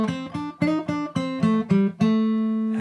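Fingerpicked guitar solo riff with each note plucked separately, index and middle fingers alternating, about eight distinct clean attacks in a steady rhythm, the last note left ringing, close and alone.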